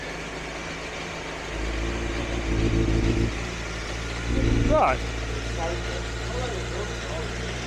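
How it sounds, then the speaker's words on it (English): A British Superbike race motorcycle's engine idles with a low steady rumble at Oulton Park, revving up twice in short bursts; someone speaks briefly over it. "We have a running motorbike, the motor sounds sweet"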